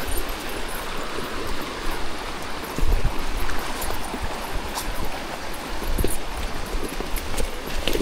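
Horses carrying riders wade across a river on a rough mountain trail in Tayabas, hooves splashing and clopping irregularly under a steady wash of flowing water.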